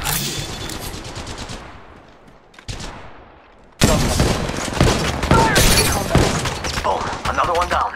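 Automatic weapon fire in Apex Legends Mobile rattles in loud, rapid bursts, a brief lull and then an intense close barrage of overlapping shots and impacts.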